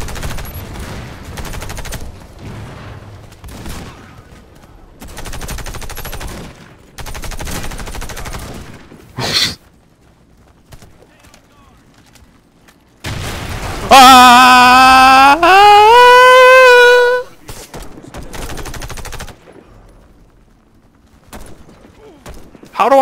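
Gunfire in the co-op shooter Warface: repeated bursts of automatic fire separated by short pauses, loud and close, with a sustained rising mechanical whine partway through and a voice talking in the gaps.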